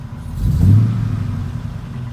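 A 2001 Chevrolet Suburban 2500 HD engine running on propane (LPG) revs up once to a deep rumbling peak, then settles back to a steady low drone, close and loud with no talk.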